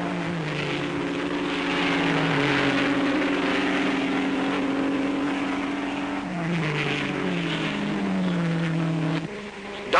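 Several 1958 Grand Prix racing cars, an overheated Ferrari among them, pass on the Spa track. Engines drone loudly in steady, rising and falling tones, with no voices.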